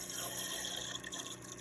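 Water is poured into the divided container of a Brinsea Mini Eco incubator, a continuous soft splashing and trickling stream close by with no talking.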